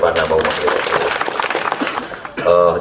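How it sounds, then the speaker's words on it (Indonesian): An audience claps in welcome for Teh Lepana at a local-wisdom dialogue event, a dense burst of applause lasting a couple of seconds between stretches of someone speaking. "Syukur alhamdulillah kita sambut dengan baik dan tepuk tangan buat Teh Lepana"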